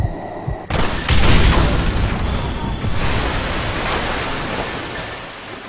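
Dynamite blowing up in Red Dead Redemption, a loud sudden blast followed by a long, roaring rumble that slowly fades, with no talk over it.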